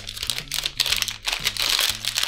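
Small Haribo mini candy bags being opened with continuous crisp plastic crinkling and rustling, close and fairly loud throughout.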